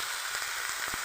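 Potatoes, onions and chilies frying in a pan for curry-leaf chow mein, a steady close hiss with a few soft scraping stirs, no voices.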